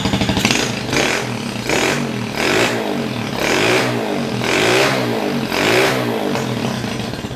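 A small HSX 110 mini trail motorcycle engine sputters to life and revs repeatedly, rising and falling in rhythmic bursts, close and loud with no talking.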